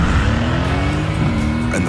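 A Mercedes-AMG GT C Roadster engine roars loud and close, a sustained rising growl with a hint of tire noise as the car accelerates.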